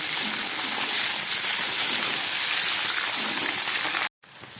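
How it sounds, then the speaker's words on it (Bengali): Flat beans fry in hot oil in a pan with a loud, continuous, rain-like sizzle up close. It cuts off abruptly near the end. "সিমগুলো আমি ভেজে নেব"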